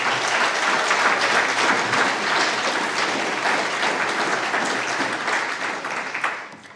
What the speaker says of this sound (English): So let's give those players a round of applause.